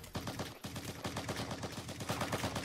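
Rapid bursts of automatic gunfire from the video game Cuisine Royale, a dense loud rattle of repeated shots with a brief gap, no talk over it.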